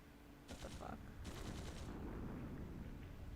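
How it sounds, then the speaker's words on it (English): A quick burst of gunshots rings out in the video game Trails Through Daybreak II, two short rattling volleys followed by a rumbling, distant-sounding roar. "Gunshots! From the next district!"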